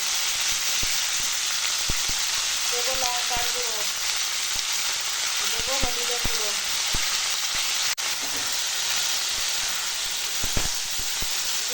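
Ridge gourd cooks in oil tempered with dried red chilli and bay leaf, a steady close sizzle with occasional stirring clicks, while a voice speaks faintly in the background.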